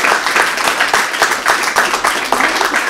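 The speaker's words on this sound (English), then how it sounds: "Can we give these two ladies a round of applause?" An audience at a panel discussion on modesty culture and Islam claps for two women, a loud, close burst of many hands with some rhythmic pulsing that holds steady throughout.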